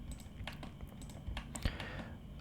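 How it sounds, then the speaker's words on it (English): Faint, close computer keyboard presses, a few scattered clicks and taps at an uneven pace over a soft background hum. "press Alt plus H on your keyboard"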